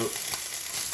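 Food seasoned with salt, garlic and black pepper sizzles in a pan while being stirred, a bright steady crackle with faint scraping, close and alone for about a second.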